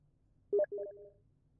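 Computer notification chimes from a Steam client, two quick soft electronic tones in succession, the second held slightly longer, clean and alone against a quiet background.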